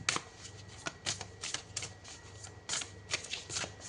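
Satin-smooth tarot cards are shuffled up close in a series of quick riffling bursts with short pauses between them, light and crisp, with no talking.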